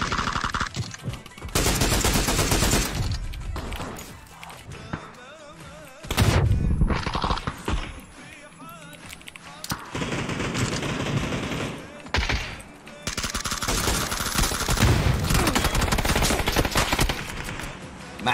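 Sustained automatic gunfire from a PUBG match fills the scene in long, loud bursts separated by brief gaps, with rapid rattling shots and some overlapping voices.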